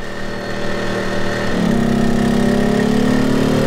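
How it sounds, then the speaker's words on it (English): A CAT INV2000 inverter generator runs under the heavy load of a Dometic 13.5 BTU RV air conditioner with a 5K heat strip, its engine droning loudly and close, then revving up to a higher, steadier pitch partway through. "You can hear that generator."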